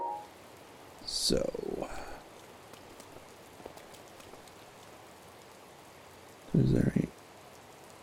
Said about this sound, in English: Not while it's raining.